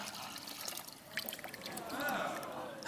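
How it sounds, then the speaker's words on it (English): Smelly pond water poured into a container, a soft trickling and splashing stream that builds toward the end, fairly close and quiet. "we're just going to pour that in there"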